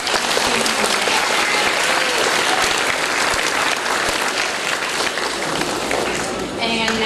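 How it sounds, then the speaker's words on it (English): Sustained, loud applause fills a hall at a fifth-grade closing ceremony at Lacoste Elementary School as dance team members stand, dense clapping with crowd noise and voices running underneath for several seconds. "How about a round of applause"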